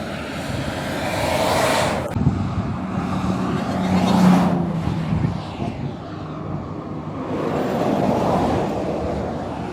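A Porsche driving past on the road among other cars after the Le Mans Classic, broadband engine and tyre roar swelling and fading in several passes, with steady traffic noise underneath and no talk.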